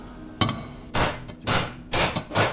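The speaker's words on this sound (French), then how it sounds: "je me suis amélioré au coup de marteau" Loud hammer blows strike repeatedly while a stainless steel SRS exhaust line is fitted to a Honda Del Sol in a garage, five heavy impacts spaced about half a second apart with no talk.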